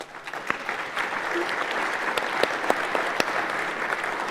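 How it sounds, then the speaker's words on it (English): Steady applause from a crowd at a graduation ceremony, dense clapping that holds at an even level throughout with a few sharper claps standing out. "Please give yourselves a round of applause."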